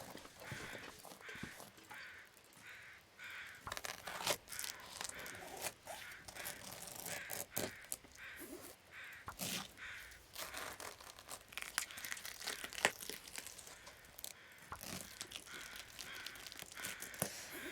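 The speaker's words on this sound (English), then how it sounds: "Would you listen to those crows?" Crows caw repeatedly in the snowy wilderness of the survival game The Long Dark, harsh scattered calls mixed with crackling and rustling sounds, fairly faint and continuous throughout.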